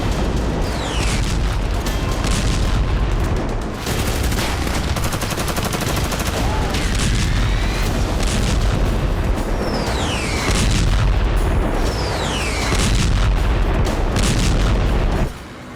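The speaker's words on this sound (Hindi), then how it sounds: "बेहद ही प्रचंड अंदाज में आईडीएफ खान यूनुस पर गोला बारूद बरसा रही है।" Israeli artillery and gunfire pound Khan Younis in Gaza in a loud, continuous barrage of booms and rattling shots, with whistling sweeps cutting through a dense, roaring background.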